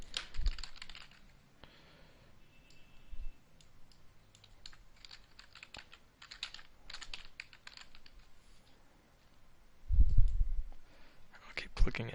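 Computer mouse clicking while buttons are added to a PDF form built from an Excel template: a run of light, close clicks and keyboard taps at a quiet level, with a person talking softly between them.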